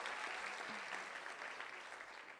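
A TEDx youth event audience applauds steadily throughout, a dense wash of clapping at moderate level that tapers slightly at the end.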